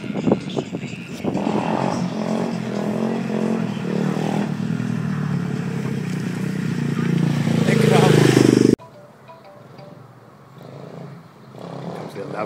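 A pit bike engine revs hard and climbs during a failed wheelie attempt, loud and close with a rising roar, then cuts off abruptly to quieter background with people talking over it.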